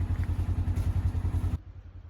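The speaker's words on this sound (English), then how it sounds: "we get to just go for a drive in the bike" A motorcycle heard while riding, its engine a steady low pulsing putter with a rhythmic beat for about a second and a half before cutting off abruptly.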